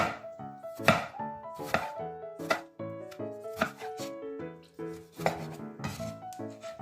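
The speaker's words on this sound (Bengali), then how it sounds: "এই টমেটোটাকেও একই রকমভাবে লম্বা লম্বি করে স্লাইস করে কেটে নিলাম" A knife slices a tomato lengthwise on a board, a series of sharp, close chopping knocks arriving about every second among light clinks of kitchenware, with no voices.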